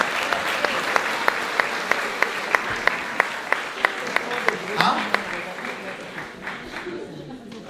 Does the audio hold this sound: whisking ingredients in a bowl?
no